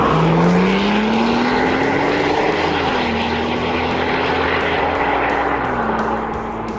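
A Porsche 911 Turbo S Cabriolet with 530 hp accelerates hard, its engine droning loud and close with a rising pitch, easing back and climbing again through gear changes, with wind rush from the open top.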